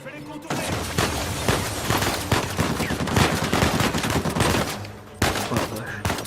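Rapid bursts of gunfire in the video game Uncharted 4 crackle almost continuously, with sharp volleys and booms layered over faint talking.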